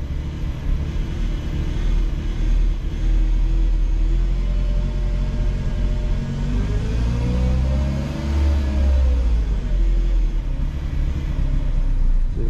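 A MINI Cooper on a test drive during transmission and fuel pump checks accelerates steadily, a continuous loud engine and road rumble whose tone climbs and dips with no talking.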